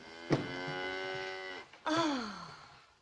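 Cows lowing on a farm in the early morning, two long drawn-out moos, the first steady and sustained and the second rising then sliding down, close and fairly loud with no voices.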